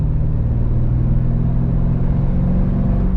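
A cheap Chevrolet C5 Corvette pulls hard on the road after a downshift to fourth gear, its engine a loud, steady low rumble that holds strong and unbroken throughout.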